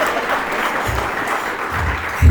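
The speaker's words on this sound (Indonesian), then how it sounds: "Tepuk tangan dulu buat Solok Selatan." Seminar audience in a school hall applauding, a short burst of loose crowd clapping that runs evenly throughout with a low thump near the end.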